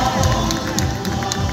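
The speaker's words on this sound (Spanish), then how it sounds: "Así que fuerte los aplausos para la comparsa Ñanda Pascay." A crowd at a June 2019 comparsa dance-troupe parade in Achupallas claps and cheers loudly and continuously, with shouts and whistles over dense applause.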